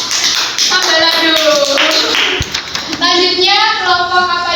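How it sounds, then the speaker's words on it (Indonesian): Clapping in a second-grade classroom during a math microteaching lesson, applauding a group of pupils; a brief burst of hand claps mixed with lively children's voices and chatter throughout. "beri tepuk tangan untuk kelompok Sambalado"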